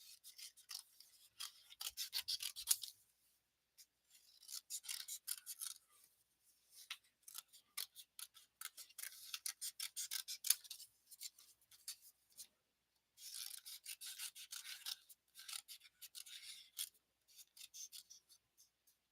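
Scissors snip through paper while cutting out card pieces, with bursts of rapid close-up cutting strokes separated by short pauses; no talking.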